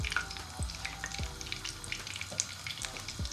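Mac and cheese discs fry in hot oil with a soft, steady sizzle and faint crackling pops, heard quietly and close with no voices.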